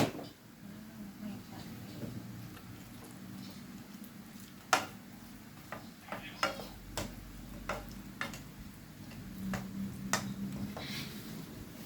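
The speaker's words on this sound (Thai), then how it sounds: "คอยคลุกหน่อยนะครับให้มันจะได้สุกพร้อมๆกันครับ" Pork fries in a pan with fish sauce added while a utensil stirs and tosses it, producing scraping clinks and taps over a low, steady sizzle, close by with no speech.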